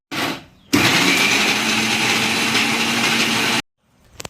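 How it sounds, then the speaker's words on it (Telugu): A kitchen mixer grinder blends tamarind pickle ingredients with a loud, steady whir that starts abruptly, runs for about three seconds, then cuts off, with a brief quieter burst just before. "రసము చింతపండు వేసుకుంటూ మిక్సీ పట్టుకోవాలన్నమాట"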